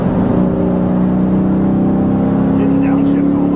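A Dodge SRT8 car drives at speed on a farm with a steady engine whine and rising pitch under acceleration, heard from inside the car while people talk.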